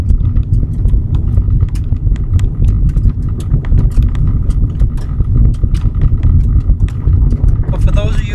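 A car drives up a driveway, its engine humming low beneath crunching, knocking tyre sounds with irregular clicks, while someone talks over the top throughout.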